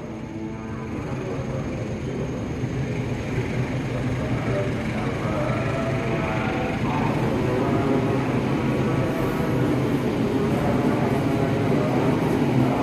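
The Pangandaran executive train at Cibatu station rumbles past at night with a steady, broad, loud roar that builds slightly toward the end, with brief voices partly blended into the noise.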